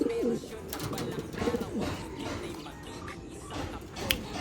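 Pigeons coo softly in low, throaty phrases, faint and close, over a backdrop of shuffling and ambient noise.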